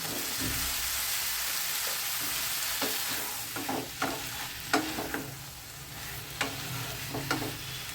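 Cooked bottle gourd tipped into a pan of prawns, with a steady sizzle and frying hiss under scattered sharp stirring scrapes and clinks from a spoon against the pan, close and fairly loud throughout.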